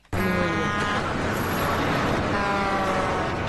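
A truck's double air horn blares loud and close, a sustained two-tone blast with a Doppler pitch shift as the vehicle drives by, used as a stock television sound effect.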